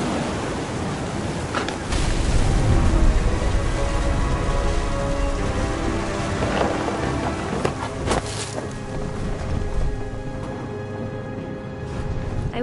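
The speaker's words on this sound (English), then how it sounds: "Thunder sounded much too close and full of angry power." Steady rain with rumbling gusts in a video game thunderstorm, a dense continuous wash with a few sharper bursts, heavy and close throughout.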